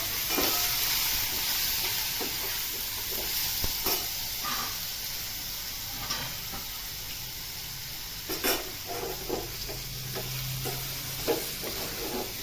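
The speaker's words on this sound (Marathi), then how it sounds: "आता आपण यात टाकत आहोत लांब कापून घेतलेले गिलके।" Long-cut ridge gourd frying in oil for a spicy vegetable dish, a steady hissing sizzle close by at moderate level, broken by occasional light clinks and scrapes of stirring, with no voices.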